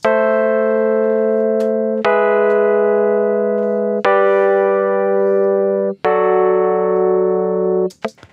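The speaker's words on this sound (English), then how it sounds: "So we've got a bog standard Logic EVP 88 playing some chords on electric piano" Logic EVP88 electric piano playing four sustained chords with no effect, each struck cleanly about two seconds apart and ringing evenly, bright and close with no voices.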